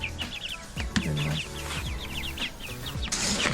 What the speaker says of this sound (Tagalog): yung ating mga manok.